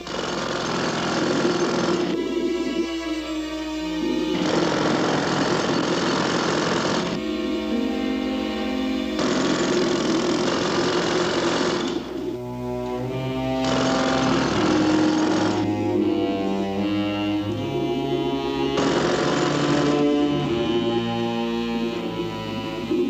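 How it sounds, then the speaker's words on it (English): A jackhammer drilling underwater pounds in long, loud bursts separated by brief pauses, its harsh rattling dense and continuous throughout. "With the help of the jackhammer, making the hole should be quick work."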